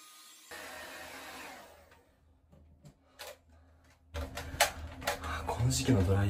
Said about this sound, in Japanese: この時期のドライヤー暑いね。